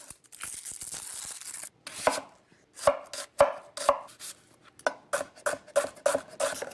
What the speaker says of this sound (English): I'm gonna chop my ingredients.